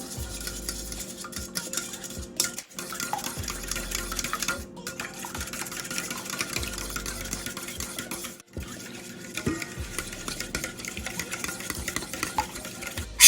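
Tabasco being stirred into a mixture for coconut shrimp, a continuous wet churning and scraping in a bowl with brief pauses, close and fairly loud, no voices.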